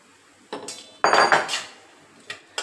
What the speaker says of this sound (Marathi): आणि सारखं ढवळत राहायचंय आपल्याला।